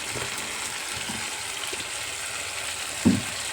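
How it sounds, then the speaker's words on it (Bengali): Oil heating in a wok for frying chops gives off a soft, steady sizzling hiss at low level, with a short clatter near the end. "আমি এদিকে কড়াইটায় তেল দিয়ে দেব ভাজার জন্য, চপ ভাজার জন্য।"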